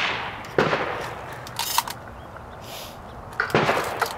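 Shotgun fire at a public shooting range during a clay-shooting session, with a couple of sharp, moderately distant reports separated by quieter range ambience.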